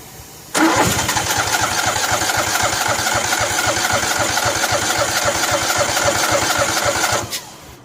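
Craftsman 6500 garden tractor engine cranking over: a loud, steady rapid chugging of the starter that begins abruptly and holds for about seven seconds before cutting off, with no voices.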